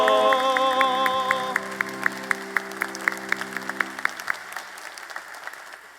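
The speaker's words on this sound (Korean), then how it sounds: "큰 박수 보내주세요" Church congregation applause during a baptism service, steady clapping spread across the room while a sustained musical tone fades beneath it, the claps thinning and dying away toward the end.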